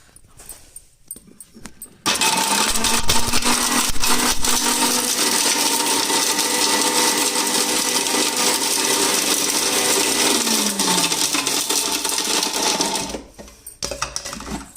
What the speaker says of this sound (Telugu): మనం ముందుగానే ఇవి బాదము ఖర్జూరము ఫస్ట్ మిక్సీలో వేసి పెట్టేద్దాము.